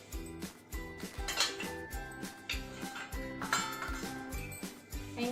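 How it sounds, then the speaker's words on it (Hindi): A spatula clanks and scrapes steadily against a metal pan as cumin seeds and grated ginger are roasted, making repeated rhythmic metallic knocks with no talking. "इनको अच्छे से इस तरह से भून लेते हैं। पहले जीरा और अदरक हमारी अच्छे से भुन जाए।"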